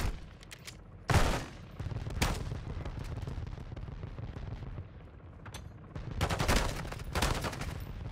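Shotgun blasts in Call of Duty MW2 (2022), several heavy booming shots spaced irregularly among other gunfire and impacts, loud and close with no talking.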